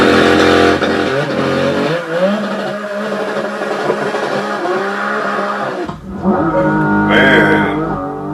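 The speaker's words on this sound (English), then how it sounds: "So this is a 4-liter flat 6." A Porsche 718 GT4 with a 4-liter flat-six engine revs loud and close, its harmonic tone rising and falling through several pulls, briefly dropping around the sixth second before climbing again.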